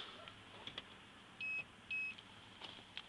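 Two short electronic beeps sound in quick succession from a Snap-on MT2500 diagnostic scan tool connected to a car's OBD port, clear and close against a quiet background.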